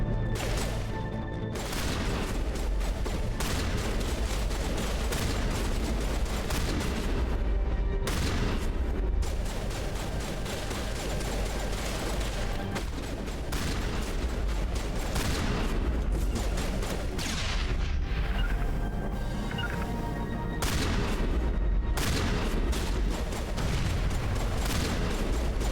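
Sustained gunfire in a Mass Effect Legendary Edition shootout, dense overlapping shots and booming impacts rattling continuously for over twenty seconds, loud and close, with brief dips between bursts and no speech.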